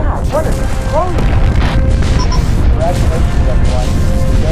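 A space-combat explosion in Freespace 2, heavy booming blasts and crashing debris that run without a break, mixed with whooshing and rising electronic tones.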